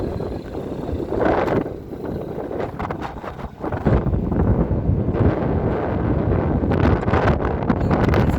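Gusty wind blowing outdoors, a steady broadband rumble that swells and buffets the microphone, with no voices.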